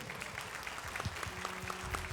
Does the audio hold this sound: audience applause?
yes